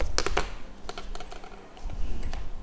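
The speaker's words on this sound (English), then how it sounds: "Now I'm going to shuffle all these cards all over again" Tarot cards shuffled by hand, a quick run of crisp flicking riffles and taps, close and fairly loud, with no talk over them.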